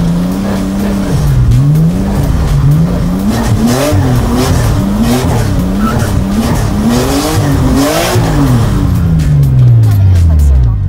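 A car drifting around a cone, engine revving in a rising and falling rhythm with each throttle blip and a loud, continuous tire squeal, ending on a long descending engine note.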